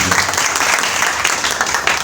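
Sustained audience applause at an Urdu-speaking brand launch event, a dense steady clatter of many hands clapping close and loud throughout, with no talk over it.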